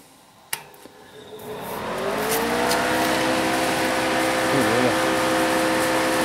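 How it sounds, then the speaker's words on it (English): An electric fan drawing roughly 100 to 120 watts runs as a load on a LiFePO4 lithium battery pack. After a click, its loud whirring hum rises over about two seconds to a steady drone. "So that's a fan cranking"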